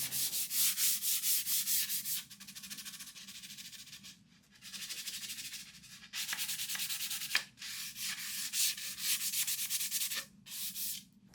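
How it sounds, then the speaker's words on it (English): A 220-grit sanding sponge rubs by hand across a table top in long back-and-forth strokes, a close, steady scratchy hiss broken by brief pauses. "I hand sanded with a 220 sanding sponge"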